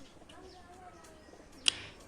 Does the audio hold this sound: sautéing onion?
no